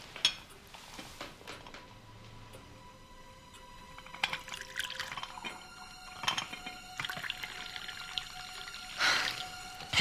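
Liquid poured into a glass at a quiet table, with faint clinks of dishes and cutlery around the soft splashing stream, no talk.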